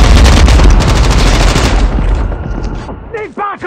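Rapid, loud automatic gunfire rattles nonstop in a video game shootout, close and dense before thinning out, with voices breaking in near the end.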